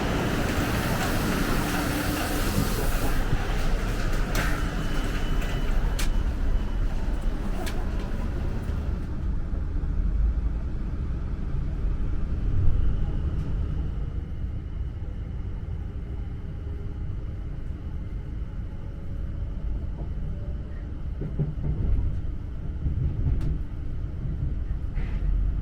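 A South Western Railway passenger service bound for Weymouth moves off, heard from aboard as a low rolling rumble with rattles that settles into a steadier, quieter drone.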